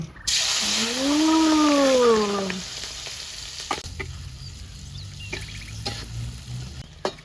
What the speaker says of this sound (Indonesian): Kijingnya digoreng lor, digoreng